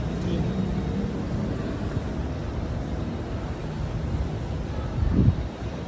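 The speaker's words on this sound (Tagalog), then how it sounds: "Dito na may hangin." Steady wind buffeting the microphone outdoors at a church in BGC, a continuous low rumble with a brief stronger gust near the end and faint voices underneath.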